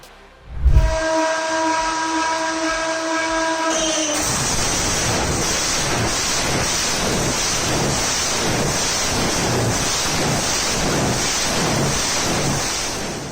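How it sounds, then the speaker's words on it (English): A replica 14-cylinder, two-row radial aircraft engine is started, opening with a thump and a whining starter tone before catching into a loud, continuous roaring rumble with a pulsing rhythm. "This is the ANAV 2 Radial engine, a replica of a classic 14-cylinder aircraft motor arranged in 2 radial rows."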